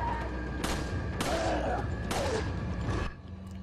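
A powerful gun in Resident Evil 4 fires three sharp, loud shots spaced roughly evenly over a few seconds, set over a constant background rumble.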